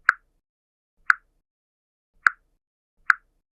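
Samsung Galaxy S24 phone charging chime: four short, clean plopping tones at uneven intervals, crisp and close against silence.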